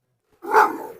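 A single short, loud bark from Carlos, a Cane Corso, close by after a moment of silence.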